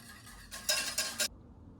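A spoon scrapes and clinks against the side of a bowl in a few quick strokes, close and fairly quiet, stirring lime Jell-O into hot cucumber water.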